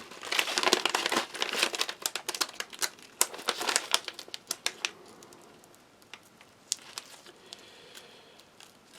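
Resealable plastic bag from a Polish Army ration pack crinkles loudly up close in a quick burst of crisp rustles, then eases into sparser, quieter crackles as the bag is worked open.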